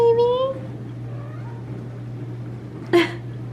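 A pet cat near a newly built cat tree gives a short, near meow at the start and a brief second meow near the end, over a steady low hum with a quiet room background.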